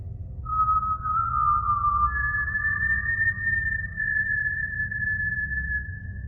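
A long, eerie whistle hangs over a forest at night, a single sustained tone that slides and then holds steady for several seconds above a low, rumbling background drone.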